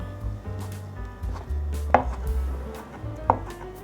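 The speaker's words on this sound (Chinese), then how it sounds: "香菇挤干水分，来切成条状。" A knife slices soaked, squeezed-dry shiitake mushrooms into strips on a cutting board, giving a few sparse, crisp strikes spaced a second or more apart over a low steady background hum.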